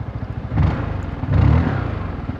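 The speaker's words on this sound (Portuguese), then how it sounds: "ela já tem um barulho legal de moto forte" A remapped Zontes 368G motorcycle engine with a Malossi kit revs up twice in quick succession, each throaty rise swelling loud and close before dropping back to a rough, pulsing idle.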